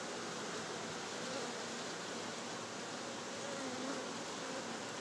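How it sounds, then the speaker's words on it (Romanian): Honey bees crawling over a beehive frame during a hive inspection, their soft, steady buzzing forming a continuous broadband hum throughout with no talk. "Am și albină de-asta zurlie de fuge pe ramă."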